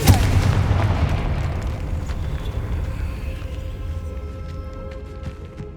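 A Confringo spell explodes in the Hogwarts Legacy video game: one loud, close boom at the start that rolls away into a long fading rumble and ringing tail.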